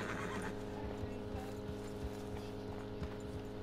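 A horse in the Red Dead Redemption 2 video game neighs and whinnies over a steady, loud game background with hoof clip-clop, brief and close.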